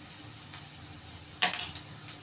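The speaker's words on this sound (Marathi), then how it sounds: "मस्त मी असा परतून घेतलेला आहे." Onion and tomato masala sautéed in a pan for a dry prawn curry gives a low, steady sizzle, broken by a couple of brief scraping stirs near the middle, close and fairly quiet.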